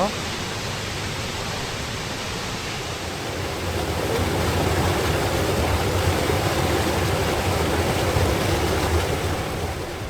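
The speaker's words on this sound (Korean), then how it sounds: "여기 보이는 곳이 은폭포입니다" Eun waterfall, one of the twelve falls at Naeyeonsan, pours in a loud, steady rush of falling water that grows a little stronger halfway through.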